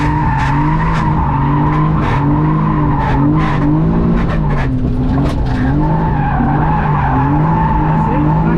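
A cheap £2000 drift car slides sideways on track, its tires skidding and squealing in long wavering tones over a steady loud engine drone, with repeated bursts of tire noise throughout.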